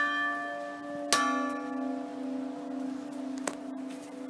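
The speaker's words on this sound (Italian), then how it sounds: "le due campane minori emettono la stessa nota, appunto il Re 4" Two smaller church bells tuned to the same note, D4, in the bell tower of San Girolamo church in Mestre, each struck once a couple of seconds apart, with bright ringing tones that decay slowly and overlap.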